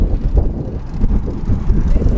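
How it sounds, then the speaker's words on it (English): Strong wind buffets the microphone in heavy, uneven low rumbling gusts, close and loud throughout. "It is very windy here."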